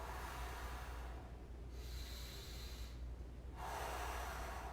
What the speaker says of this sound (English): And now I'm going to do the decompression breathing.